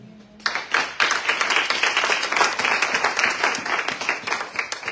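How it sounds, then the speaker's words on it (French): A church congregation breaks into sustained, loud applause after a brief quiet moment, many hands clapping densely and continuously throughout. "Est-ce que tu peux acclamer le Seigneur?"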